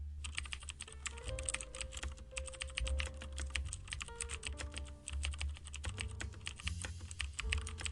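Rapid, steady typing on a computer keyboard while entering programming code, dense clicking keystrokes running continuously over a low background hum, close and clear with no talking.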